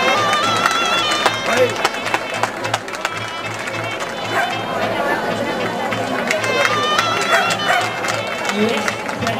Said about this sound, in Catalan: Aplaudim, aplaudim.